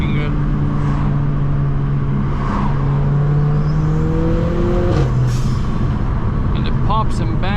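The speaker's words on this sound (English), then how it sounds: "the pops and bangs and the burbles and farts from the exhaust" A Mercedes AMG A45 RENNtech exhaust hums steadily and loudly, its pitch rising and falling as the revs change, with a few sharp crackling pops near the end.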